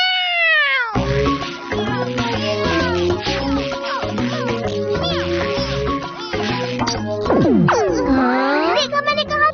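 Doraemon, the cartoon robot cat, meows and caterwauls loudly and continuously in a long, high, swooping cat-like vocal performance, a voice actor imitating a cat over a sparse musical backing.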